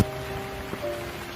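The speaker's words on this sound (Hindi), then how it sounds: "क्योंकि बारिश हो रही थी" Rain falls steadily in a Hindi cartoon story about farmers, a dense even hiss of drops with a faint tonal hum underneath.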